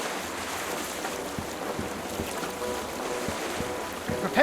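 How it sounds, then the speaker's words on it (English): Creaking wooden sailing ship setting out to sea in Tales of Monkey Island, with steady wind and waves washing under faint hull knocks, a sustained moderate ambience with no voices. "Prepare to set sail, Mr. Winslow."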